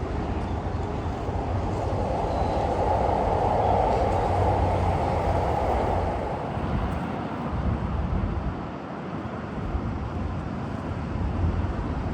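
A commuter train near Yokohama, Japan, rolls along with a steady rumble and rushing noise, the roar swelling and then easing slightly.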